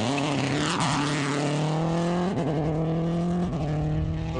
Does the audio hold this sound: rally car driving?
yes